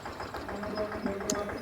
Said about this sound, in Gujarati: માત્ર ને માત્ર 3 જણાથી આપણો આ પંપ ચાલુ છે